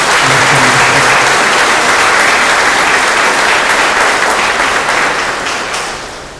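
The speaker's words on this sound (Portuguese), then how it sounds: "Também merece nossa calorosa salva de palmas." Loud, dense applause from a church congregation during a novena homily, a steady wash of clapping that fills the whole stretch and tapers slightly toward the end, with no talk over it.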